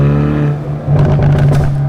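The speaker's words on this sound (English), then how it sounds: "let's do a second gear downshift just so you can see" A Hyundai Veloster N engine holds a steady close drone, dips briefly, then rises again as the exhaust revs through a second-gear downshift with some rattly crackle. No voices are heard.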